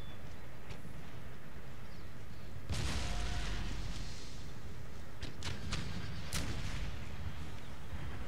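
Artillery fires in the Empire Total War battle game, with a heavy boom followed by several more sharp cracking shots over a rumbling battlefield background.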